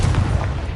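A short, heavy boom from the Confringo blasting spell in Hogwarts Legacy, a loud, low explosive thump filling under a second.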